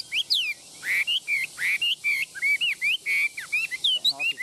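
A caged songbird sings a lively, continuous run of bright whistled and chirping phrases, close and loud, with short gaps between notes and no talking.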